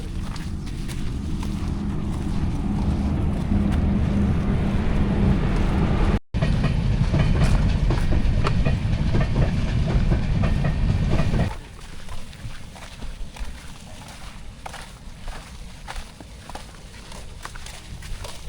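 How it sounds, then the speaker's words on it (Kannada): A train rolls past on rails, loud and close with a dense rumble and rhythmic clicking for about eleven seconds, then fades away leaving quieter background noise. "ಟ್ರೈನ್ ಬಂತಾ?"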